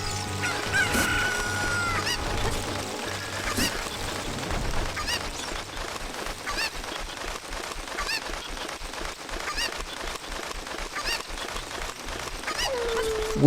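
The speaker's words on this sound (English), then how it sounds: "Okay, I can hear the chicken." Chicken clucking and crowing in The Legend of Zelda: Ocarina of Time video game, repeated game-sound clucks and cries over a busy rhythmic music backdrop, with some brief game effects.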